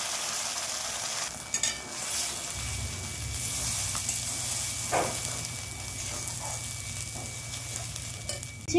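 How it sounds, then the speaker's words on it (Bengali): Ground spice paste hits hot mustard oil with bay leaves in a kadai for a green banana kofta curry, sizzling steadily, with scraping stirs and a few sharp spatters. "মিক্সার গ্রাইন্ডে যে পেস্টটা করে রেখেছিলাম সেই পেস্টটা আমি কড়াই দিয়ে দেবো।"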